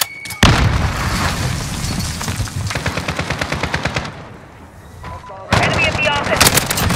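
Call of Duty Modern Warfare Team Deathmatch combat: loud rapid automatic gunfire with heavy booming blasts, including a grenade explosion, in dense continuous bursts close by.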